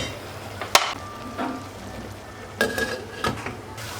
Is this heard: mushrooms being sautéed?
yes